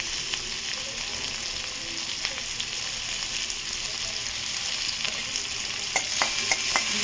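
Onion frying in a pan with garlic, a steady continuous sizzle with a few sharp crackles and stirring clicks toward the end, close and fairly loud, with no talking.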